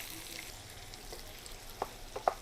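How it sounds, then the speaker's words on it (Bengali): Chopped onion fries in a pan for a meat dish, a faint, steady sizzle broken near the end by a few light clinks of stirring. "এখানে আমি কিছু পিঁয়াজ কুচি দিয়ে দিচ্ছি এখানে আমি মিট রান্না করব"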